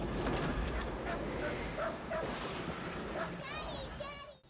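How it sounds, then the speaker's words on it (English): A dog barks and whimpers in short yips amid a loud, dense wash of wind and storm noise from a tornado film, with speech mixed in underneath. "Let the dog in there."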